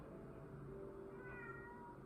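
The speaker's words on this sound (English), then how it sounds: "my cat wants to be fed a fourth time" A house cat meows for food, a faint drawn-out mewing rising softly near the end over a muffled low background hum.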